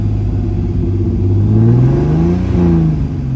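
Loud, close idle of a turbocharged BMW M50 engine in an E30, holding a steady low rumble near 700 RPM that wavers slightly partway through.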